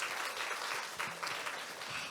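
An audience at a Korean cultural education event applauds a guitarist and a pansori singer, a steady wash of clapping heard from a distance and fairly faint throughout.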